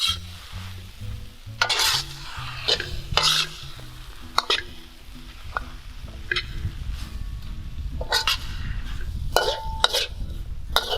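Seasoned instant noodles are stir-fried and tossed in a well-seasoned wok, giving a steady sizzle broken by repeated sharp metal scrapes and clanks of the spatula against the pan.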